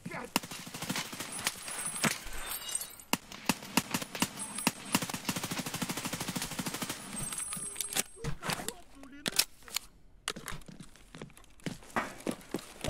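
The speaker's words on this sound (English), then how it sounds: "That was a lot of bullets." Rapid gunfire bursts rattle through a video game session with heavy armed cargo-hauling, dense volleys of shots in the first eight seconds, then scattered sharper single cracks, under intermittent talk.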